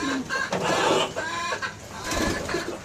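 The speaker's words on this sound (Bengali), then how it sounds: "ওইখানে মুরগি করকর করতেছে মুরগিটা হয়তো ডিম দিবে" Hen clucking repeatedly in a loose, uneven rhythm at moderate distance, alone without talk, around a rooftop pigeon and poultry area.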